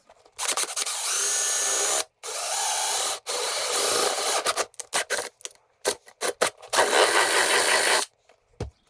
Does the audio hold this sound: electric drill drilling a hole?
yes